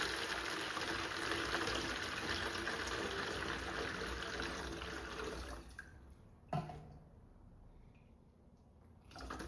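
Water gushes steadily into a gallon container as it is filled quart by quart, a continuous broad pour that stops abruptly near the end, followed by a brief clunk and a quieter trickle.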